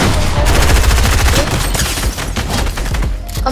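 Rapid bursts of gunfire from a Fortnite Chapter 2 Season 2 match crackle loudly and almost continuously, dense volleys of shots layered over booming impacts throughout.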